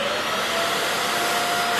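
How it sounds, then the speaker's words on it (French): Vacuum cleaner sucking dust out of a drilled anchor hole before chemical sealing, a steady close, loud broadband whoosh with a faint whine, running alone throughout. "je repasse toujours un petit coup d'aspirateur"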